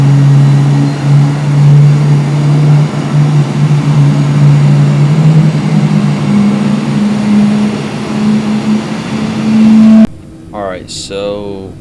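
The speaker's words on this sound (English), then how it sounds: "Starting engine 4." Boeing 747-8F jet engine starting in Microsoft Flight Simulator: a loud steady low drone with rising tonal whine runs for about ten seconds, then cuts off as a voice speaks.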